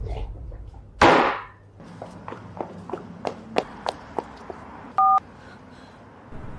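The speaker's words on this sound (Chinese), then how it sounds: "5年里，只要我一打电话，江言之无论何时何地都会在1秒内接听号码的。" Telephone keypad dialing tones from a phone call, a short run of distinct beeps at an even rhythm with a louder steady tone near the end, loud and close, heard alone without talk.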